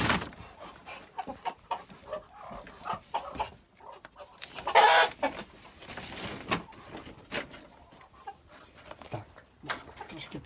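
Barbezieux breed chickens in a coop, soft scattered clucks and low fowl murmurs nearby with rustling and a brief louder scrape partway through.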